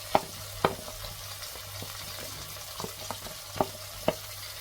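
Vegetables such as drumstick, potato and brinjal added to softened tomatoes in a frying pan for sambar: a faint low sizzle broken by a few sharp, separate knocks and clinks as pieces go in and are stirred.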